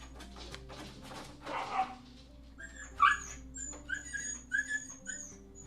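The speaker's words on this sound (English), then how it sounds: "You'll never know if I'm pausing because the puppy's making a lot of noise" A puppy whimpers and gives a few short yips and barks nearby, the high whines rising in brief bursts over a low background hum.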